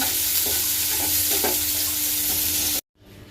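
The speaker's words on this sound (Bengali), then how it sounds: "আমি এই যে সব কিছুকে একসাথে দিয়ে মাখানো শুরু করে দিলাম সসেজ দিয়ে আলু দিয়ে চিকেন দিয়ে" Sausage, potato and chicken being stirred and mixed together in a bowl, a steady soft scraping and squelching with a few light knocks of the spoon, close and continuous, then stopping abruptly.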